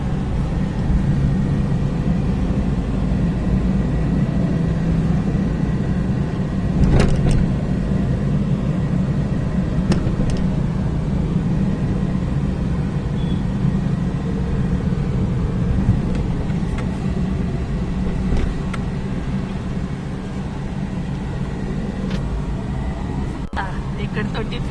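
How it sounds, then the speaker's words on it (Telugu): Heavy road traffic near a flyover under construction on a highway, a continuous low rumble of engines with passing vehicles and occasional sharp knocks, speech faintly present at times. "ట్రాఫిక్ కూడా ఎక్కువ అయిపోయింది"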